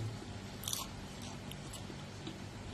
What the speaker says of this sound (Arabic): انا عايزه بقى اسمعكم صوت القرمشه، اسمعوا كده بقى